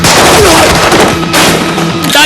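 Gunfire in a dubbed action film: a loud, dense burst of shots fills the whole clip, with rumbling booms and some ringing tones underneath, and no clear speech on top.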